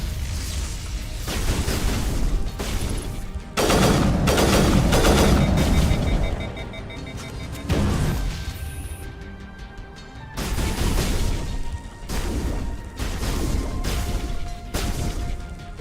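Grenades and gunfire boom and crash in a Mass Effect battle, with a long, heavy roar of blasts early on followed by repeated loud impacts and game effects throughout, no speech.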